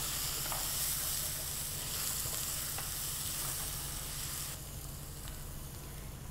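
Ginger and garlic sauté in a pan for a Chettinad shark puttu, giving a steady, close frying sizzle with faint stirring clicks. It grows slightly quieter toward the end.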